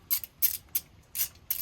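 A ratchet or driver works loose the Torx T30 screws on a Vauxhall Corsa D front brake, one of them partly stripped; five short, sharp clicking bursts come close up in an uneven rhythm, with no talk.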